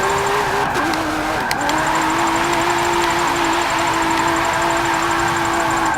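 A 2017 Ford GT in Forza 7 drifts on track, its engine holding a loud, steady high drone with a brief dip and shift in pitch, continuous throughout under light tire noise.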